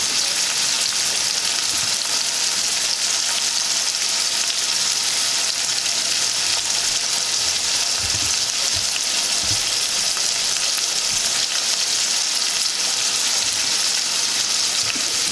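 Seasonings frying in a pan for Jamaican ackee and saltfish give a loud, continuous, even sizzle close by, steady throughout with faint low knocks underneath.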